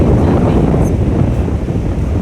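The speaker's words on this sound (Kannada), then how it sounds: "ಗಾಳಿ ಇದೆ" Strong wind buffeting the microphone at Sohar beach, a steady loud roar running through the whole stretch with faint surf blended underneath and no clear voices.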